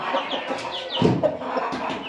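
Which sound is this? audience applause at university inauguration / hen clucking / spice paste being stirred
hen clucking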